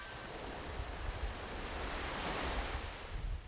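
Gentle ocean waves wash steadily onto a calm, shallow beach with clear water, a soft continuous surf hiss with light wind noise and no voices.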